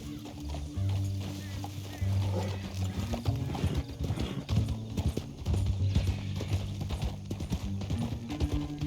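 A horse's hooves step carefully over rock in Red Dead Redemption 2, with irregular clip-clops close by under game music and talking.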